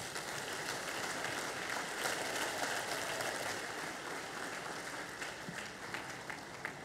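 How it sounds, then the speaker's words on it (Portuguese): A church congregation claps for Jesus after a sermon, a sustained, even roar of many hands clapping together that holds steady for several seconds. "Pode bater palmas para Jesus?"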